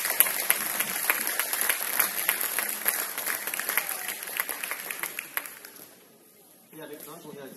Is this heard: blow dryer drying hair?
no